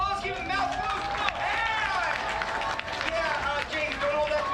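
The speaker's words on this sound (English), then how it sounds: "Give him a huge round of applause." Audience applause breaks out at the Gatorland alligator show, steady clapping from the crowd mixed with cheering, while the presenter keeps talking over it.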